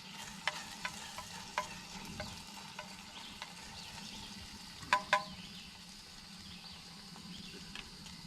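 Onions fry quietly in a canteen cup with sausage and barley nearby, a soft sizzle under scattered scraping taps of a utensil stirring against the metal, a couple of sharper clinks midway.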